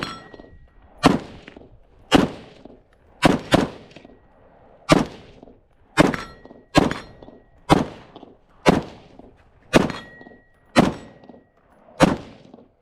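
A CMMG BR47 rifle fires about a dozen evenly spaced shots, each followed by the sharp metallic clang of bullets striking a rotating steel plate target, loud and rhythmic with short pauses between.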